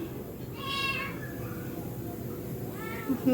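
Pet cats waiting for cat food and chicken with rice give two clear meows, one drawn out and one shorter, close by over a low steady household hum.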